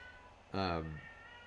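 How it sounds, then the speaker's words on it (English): A cat lets out a single loud, drawn-out meow lasting about half a second, close by and standing alone with no talk over it. "The cat has things to say."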